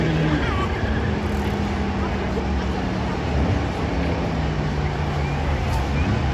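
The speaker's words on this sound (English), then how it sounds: "Those are the final buses, I believe, to make their way up and over the hill." School bus engines rumble and drone steadily at a figure-8 race track as the buses climb over a hill, a continuous loud low roar with a commentator talking over it.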